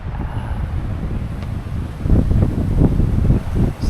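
Strong gusty wind buffeting a mountain lookout tower, low roaring rushes that build and swell in the second half, loud and close against the microphone.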